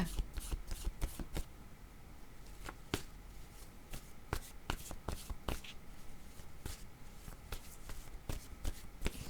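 Tarot cards being shuffled by hand, a long run of crisp riffling slaps and flicks in uneven bursts, close and fairly quiet.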